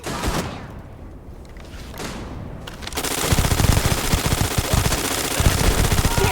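Rapid automatic gunfire in a Starfield firefight, a sparse volley at first, then from the midpoint a dense, loud continuous burst of machine-gun fire that runs to the end.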